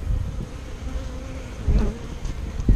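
A swarm of bees buzzes close by in an outdoor capture at a university campus, a continuous droning hum with swelling bursts as insects fly near.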